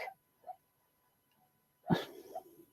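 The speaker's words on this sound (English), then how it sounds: "Our dog's dreaming and she's yelping in her sleep." A sleeping dog yelps while dreaming indoors: two faint, brief whimpers, then a louder, sharper yelp with a short tail of soft cries, all close by.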